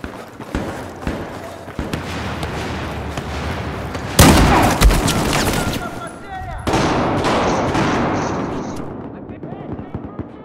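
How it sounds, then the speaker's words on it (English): Explosive rounds fire in a first-person shooter set in a metro, heard as loud bursts of gunfire with a sharp blast near the middle. Shots and rattling impacts follow, and the sound thins out toward the end. "it looks like somebody's using explosive rounds"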